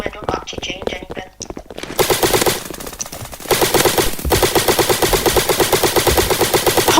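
Airsoft-style gunfire in a Roblox game: scattered shots at first, then sustained rapid automatic bursts, loud and close, with a voice briefly audible.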